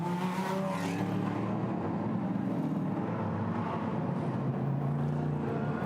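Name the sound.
GT America race cars leaving pit row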